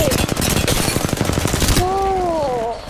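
Rapid automatic gunfire in the battle royale video game Apex Legends, loud sustained bursts for about two seconds, then rising synthetic whistling tones as the shooting stops.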